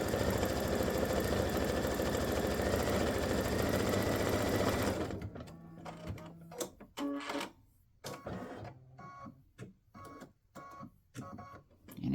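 An embroidery machine runs steadily for about five seconds, stitching four short lines in white thread for a Mrs Claus cookie fill design, then stops and gives way to quieter scattered clicks and handling noises.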